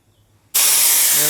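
Air bursts out of a 4WD tyre the instant the valve is pulled, a sudden loud, close, steady hiss after a quiet moment.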